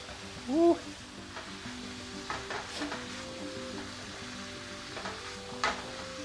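Food sizzling and being stirred in a hot pan, with scraping and clinks from a utensil, a steady low crackle throughout.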